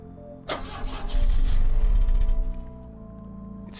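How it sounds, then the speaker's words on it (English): In the video game The Drifter, a car engine cranks with a whirring, sputtering rumble that swells for a couple of seconds and then fades without catching. "It's still not firing. Better check the engine again."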